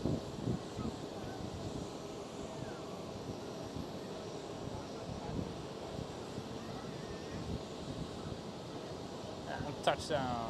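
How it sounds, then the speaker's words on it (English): A private jet lands at Schiphol Amsterdam airport with a steady, distant engine roar and wind rush that continues throughout, with faint talk in the background. "Right over there is a private jet arriving."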